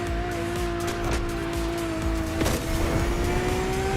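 Lamborghini Aventador, a Liberty Walk custom in The Crew Motorfest, drives with a loud, steady high engine whine that climbs gradually in pitch, with a brief surge and tire noise partway through, heard close and alone.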